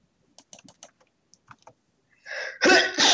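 A single sneeze bursts out near the end, loud and close, after a few faint clicking taps in a quiet room.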